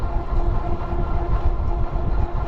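A Metrolink commuter train rumbles past on the rail line beside a river trail, a loud continuous low roar of wheels and cars that holds steady throughout.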